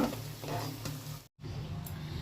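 Pea lentil fritters (matar dal bora) frying in hot oil for a Bengali vegetarian dish, giving a steady, close, dense sizzle that cuts out for a split second before resuming.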